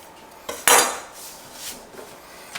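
A knife gives vegetables a quick chop on a kitchen board, with a few sharp, close knocks spaced apart against quiet room background.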